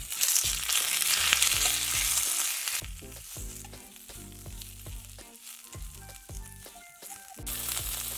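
Black pepper, green chili and cumin fry in a teaspoon of oil in a pan with a bright, loud sizzle that eases into softer crackling and popping, then swells again at the end.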